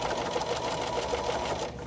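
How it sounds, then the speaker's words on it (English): A sewing machine runs steadily, close and continuous, stitching down the binding on a custom tablet cover with a serpentine stitch, then stops near the end. "Stitch the binding down with a serpentine stitch"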